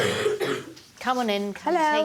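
A boy of nearly 11 with a bad cough hacks a few times in a doctor's consulting room, close and fairly loud, followed by adults speaking clearly nearby.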